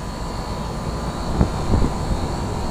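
A 1984 Carrier Round One heat pump running in cool mode, giving a steady, loud broadband whoosh and drone of the fan and compressor with faint tonal hum and a few brief rattles, no talking.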